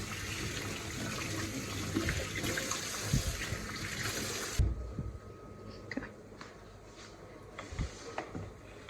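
Tap water runs steadily while dough is rinsed off hands after shaping vetkoek (amagwinya, fried dough fatcakes) in a kitchen, a loud continuous splashing rush for about four and a half seconds, then a quieter trickle with small drips and clinks.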